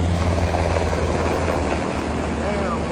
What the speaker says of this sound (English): Blackhawk helicopters shown all night traveling to some unknown location.